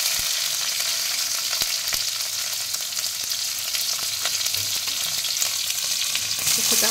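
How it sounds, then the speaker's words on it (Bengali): Radhuni spice, crushed garlic and slit green chillies fry in hot oil, a steady close sizzle with occasional stirring clicks and no talk. "এবার 1 চামচ রাঁধুনি ফোড়ন দিলাম, কিছুটা রসুন থেতো করে রেখেছিলাম দিয়ে দিলাম"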